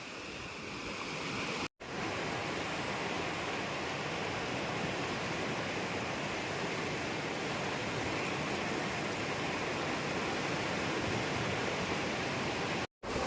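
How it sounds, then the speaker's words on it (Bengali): Surf at Tajpur beach, with choppy, uneven waves, rolls in as a broad continuous roar, loud and close, broken only by two brief dropouts, with no voices. "মন্দারমণির থেকে তুলনামূলক ঢেউ যেন মনে হচ্ছে এখানে বেশি"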